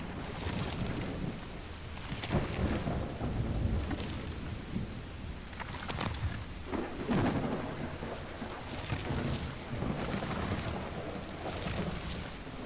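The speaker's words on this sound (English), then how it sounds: "it's raining cats and dogs here" Steady heavy rain with rolling thunder in the Call of the Elder Gods video game, the rumbles swelling and fading several times over a constant downpour, with no one talking.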